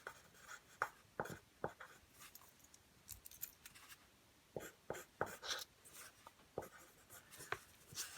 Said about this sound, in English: let me write that down too